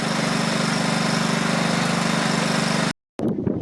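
A 1990s Craftsman lawn mower engine runs steadily at a constant drone, close and loud with wind noise over it, then cuts out abruptly, followed by a brief rumble.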